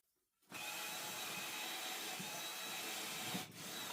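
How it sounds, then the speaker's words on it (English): A power drill bores steadily into a wooden beam, a continuous whirring grind starting after a moment of quiet and holding even for several seconds with a brief dip near the end. "So I'm going to drill into this"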